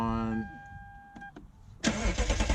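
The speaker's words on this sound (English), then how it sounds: "So turn the car on." A 2012 Lexus IS F starts up: a chime sounds first, then after a short pause the engine catches with a sudden roar and settles into a loud, close rumble.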